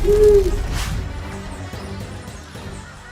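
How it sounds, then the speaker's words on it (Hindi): A fearsome owl perched on a tree branch in an animated horror story gives one short hoot at the start, followed by a dull crashing thump and a fading low rumble. "एक बहुत भयानक सा उल्लू पेड़ की डाल पर बैठा हुआ है"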